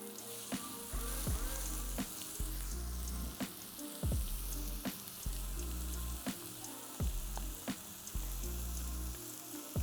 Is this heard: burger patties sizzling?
yes